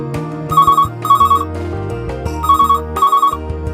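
A telephone rings in a call-in show studio, two pairs of bright electronic trills, loud and close, with a short pause between the pairs.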